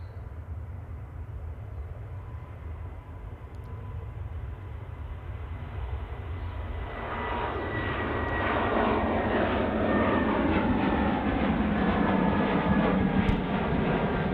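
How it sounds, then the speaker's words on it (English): Lufthansa Airbus A320 departing Manchester Airport for Munich: a steady jet engine roar that builds in loudness and fullness partway through as the aircraft powers up, continuous and fairly close, with no voices. "Our next departure, Lufthansa Airbus A320,"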